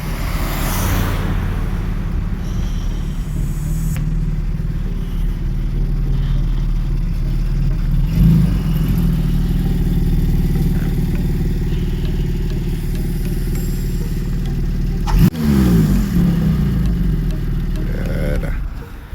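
A car engine on a street in Milan gives a steady, fairly loud low rumble throughout, with a brief clattering bump near the end; faint voices sit under it.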